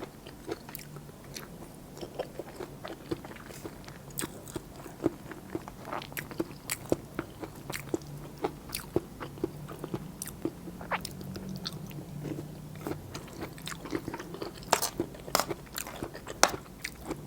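Someone chews wild Melientha fruit with boiled egg close to the mic, with steady crunchy bites and wet mastication clicks repeating throughout.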